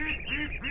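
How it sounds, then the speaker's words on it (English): A larger pet duck calls out for food in a run of loud, close, harsh honking quacks, about three rising calls in quick succession with no voices over them. "And my bigger duck is yelling at me because I haven't brought him any food."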